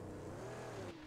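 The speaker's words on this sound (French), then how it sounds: "Oh, les vieux bruits de moteur qu'il nous fait de temps en temps." A car engine in the Mad Max video game revs with a steady, low droning growl and a slight rising tone, loud and close for about a second with no voices.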